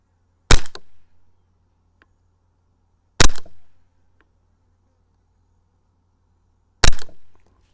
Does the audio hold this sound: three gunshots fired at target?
yes